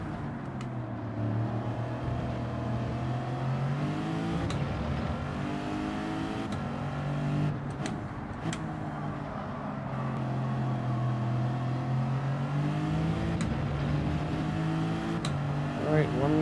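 A Lexus race car's engine in Gran Turismo 7 drones steadily and loudly, its pitch climbing and falling as the throttle is worked through corners, with a few sharp clicks over the continuous roar.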